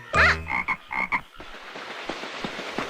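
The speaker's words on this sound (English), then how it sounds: "Check out that green frog jumping." A cartoon green frog gives a loud, close croak followed by a few shorter bouncy croaks, then a busy rattling background takes over.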